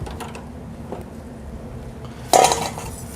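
A pot of pastry cream lifted off a stovetop, heard as a low kitchen hum followed by a single loud, close metallic clank and brief rattle of cookware.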